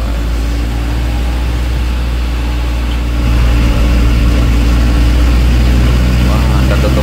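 Bus engine rumble on an Indonesian road as a Haryanto bus overtakes, a steady low droning hum that grows slightly louder partway through, heard close from inside a moving minibus.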